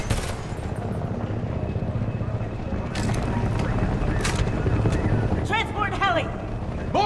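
A transport helicopter in the video game Homefront thrums steadily in the background amid combat noise, with bursts of gunfire, sharp clanks and a shouting voice over the continuous rotor drone.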